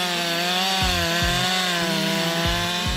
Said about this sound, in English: The power and performance of the Husqvarna 560 XP chainsaw allows you to cut down a large tree in just a few minutes